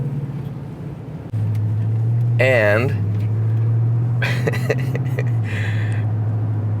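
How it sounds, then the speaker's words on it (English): Deep, steady exhaust drone from a 2021 Chevy Silverado 1500 4WD RST pickup with sport exhaust while driving, a loud continuous low rumble under intermittent talk from the driver. "this classic truck sound coming from this sport exhaust is just incredible"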